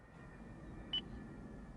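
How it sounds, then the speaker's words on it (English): A single short, faint electronic beep sounds from the voice command system of a 2014 Lexus GS 450h hybrid, alone against a quiet cabin hum. "After the beep, say a shortcut menu command."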